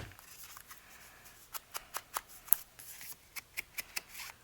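Scissors snip paper while trimming a pocket in a handmade journal, a string of about a dozen short, crisp cuts, some quick and paired, close and fairly quiet with no talking.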